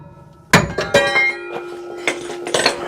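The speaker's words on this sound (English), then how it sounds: "It's hung on the spring, so we'll take a hammer here." Hammer blows on rivets holding the spring of a 1971 Ford F-350, a sharp metallic strike followed by several lighter ringing clanks close by, with no talk.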